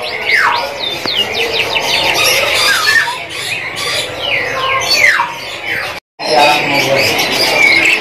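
Caged canaries at a bird shop kiosk chirp and trill in busy, overlapping bright phrases, close and loud, with a brief dropout near the end; one short spoken word is barely noticeable.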